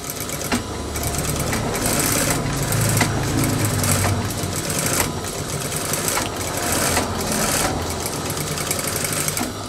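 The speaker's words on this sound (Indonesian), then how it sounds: "Kemudian kita jahit double karena bagian pisak depan dan pisak belakang ini rawan sobek." A sewing machine runs steadily, double-stitching the crotch seam of baggy trousers, with a fast, even mechanical whir and brief regular pauses, close and loud throughout.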